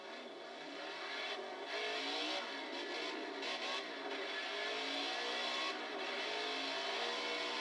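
A Trans Am series race car engine roars from onboard at Sonoma, sustained and loud, with the revs rising and falling as the car drives around the road course.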